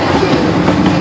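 A train rolling along the rails in a dense, loud, continuous rumble with a faint rhythmic clatter, heard from inside a carriage with no talk.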